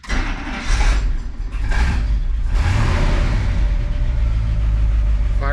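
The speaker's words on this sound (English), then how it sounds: "Fires right up." International pickup truck with a new carburetor and glass pack exhaust cranking and firing up, a short churning start that catches into a loud, rumbling idle close by.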